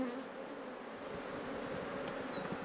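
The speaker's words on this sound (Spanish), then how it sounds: "tanto de abejas y avispas silvestres como de la abeja europea" Wild bees and wasps buzz faintly in a tropical forest, a quiet steady drone with a couple of brief higher whines of insects passing close.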